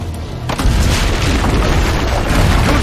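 Heavy cannon fire booms from the ramparts in Assassin's Creed Brotherhood, a dense, continuous roar of loud explosions after a brief quieter start, sustained rumbling blasts filling the whole stretch without talk.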